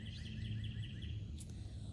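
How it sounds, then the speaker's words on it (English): Small birds chirp in a backyard in Joplin, Missouri, with a quick series of high repeated notes and calls carried over a steady low outdoor rumble, moderately distant and fairly faint. "just listen to the songs of the birds"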